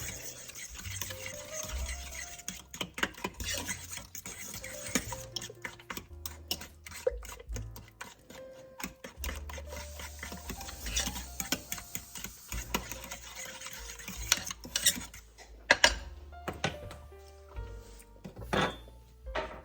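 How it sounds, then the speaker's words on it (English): Ingredients are stirred in a pot as it heats, with a spoon scraping and knocking against the sides in irregular clicks and taps. The sounds are close but fairly quiet, with no talking. "Now I'm going to get this all stirred around, get it started to heat up."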